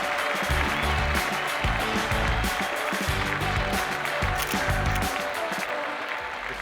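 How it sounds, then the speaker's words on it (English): Sustained audience applause for pageant winners at a style diva contest, dense clapping from a large crowd held steady and loud throughout, tapering only slightly at the end. "Round of applause for them"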